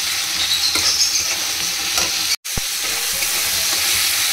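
Tomato curry fries in a pan with a loud, close sizzle while being stirred, the steady hiss broken by one brief silent gap partway through, with no talking.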